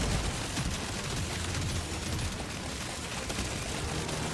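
Electrical turrets in Deep Rock Galactic Survivor blast into a swarm of enemies, producing a dense, unbroken crackling barrage with a low rumble that stays loud throughout.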